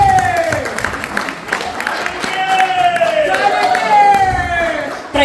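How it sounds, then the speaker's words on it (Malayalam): An audience claps and cheers for children performing at a Vishu celebration of a Hindu samajam in England, a steady wash of applause with a sustained tonal sound running through it, fairly loud and close. "അപ്പോൾ അവർക്കൊരു വലിയ ബിഗ് ക്ലാപ്പ് പ്ലീസ് എവരിബഡി"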